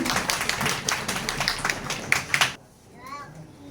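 An audience claps at an award ceremony with brisk, dense applause, and a voice rises over it before the clapping cuts off abruptly and quieter talk follows.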